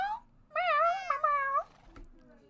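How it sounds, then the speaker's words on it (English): A pet cat lets out a short chirp, then a long drawn-out meow followed by a second wavering meow, close by and fairly clear over a quiet room background. "Sorry, my cat is being a little noisy."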